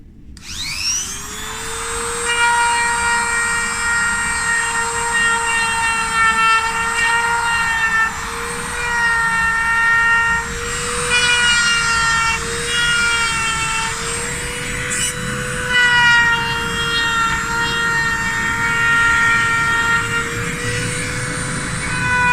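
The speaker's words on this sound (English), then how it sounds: "that's a Sabertooth eye cutter bit in the Whisper range, and we're just going to use that around the eyes and beak and the claws" A high-pitched rotary power carving tool fitted with a Sabertooth Whisper eye cutter bit works fine details into a wooden barn owl's eyes, beak and claws, a steady close whine with slight pitch wavering, no talk.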